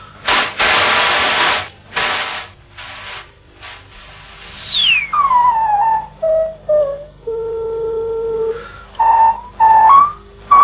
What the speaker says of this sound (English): I'm going to change over to our old friend white noise. And it's going through a filter.